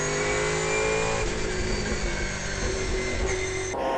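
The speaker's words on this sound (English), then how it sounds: "And this is the V8 Touring Car National Series, some great racing." V8 Touring Car National Series race cars roar past at Winton Raceway, engines revving hard in a loud, continuous blare that shifts in pitch as the cars pass, with no talk.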